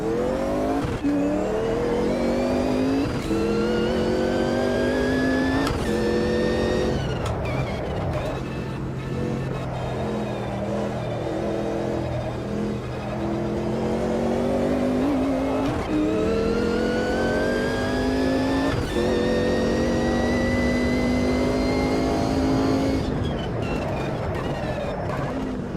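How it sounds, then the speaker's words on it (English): A race car engine in the racing video game Project Motor Racing, revving loud and close through repeated rising gear pulls with brief shift drops, a sustained continuous roar with no talk. "What do you think this car sounds like right now?"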